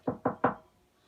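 Three firm knocks on a door in quick, even succession, loud and close, followed by quiet.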